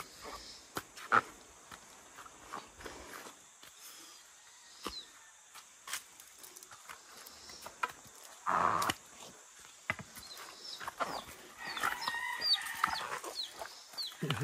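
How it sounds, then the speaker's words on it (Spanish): Hen clucking angrily beside her chick on a country ranch, scattered sharp clucks and squawks over faint farmyard background, with a louder burst midway and more activity near the end. "La gallina estaba furiosa con su pollito."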